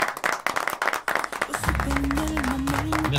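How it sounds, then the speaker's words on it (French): Audience applause greeting Doctor Omar Lozano, a burst of crisp, close clapping from a small crowd that gives way after about a second and a half to swelling dramatic music. "Accueillons sous les applaudissements le docteur Omar Lozano."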